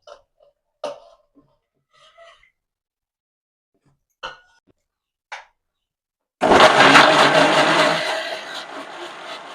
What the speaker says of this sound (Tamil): தக்காளி மிக்ஸி ஜாரில் போட்டுக்கலாம்.